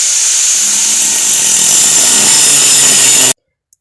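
A power saw cutting out a metal piece for a front subframe mount: a loud, close, continuous high whine and rasp for over three seconds, cut off abruptly into near silence.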